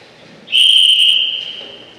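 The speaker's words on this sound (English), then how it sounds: "They won't attack until Ali blows his whistle." A single loud, sustained whistle blast used as an attack signal, piercing and steady for about a second and a half before tapering off, heard alone.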